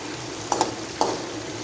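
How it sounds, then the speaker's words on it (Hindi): Chicken fries in a pan with onions, a steady soft sizzle with a few brief clinks and scrapes of stirring, close and moderate in level. "अब जो मेरे पास चिकन था मैं वो डाल दूंगी और 3 से 4 मिनट अच्छे से फ्राई कर लूँगी चिकन को मैं।"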